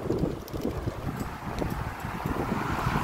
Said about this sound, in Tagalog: makikita mo talagang lakas ng hangin.